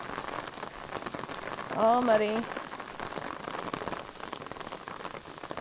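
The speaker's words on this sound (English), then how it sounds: "I managed to get my umbrella out just in time for the rain to come pouring down" Steady heavy rain pours down on a muddy, partly flooded Appalachian Trail, a dense broadband hiss throughout with a brief whistled or voiced tone in the middle and a few words spoken over it.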